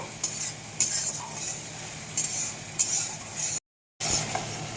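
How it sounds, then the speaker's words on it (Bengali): Spice masala for an egg curry with potatoes being fried and stirred in a pan: a steady sizzle with repeated scraping stirs, then a short break in the sound. "এদিকে মশলাটা কষে নিব"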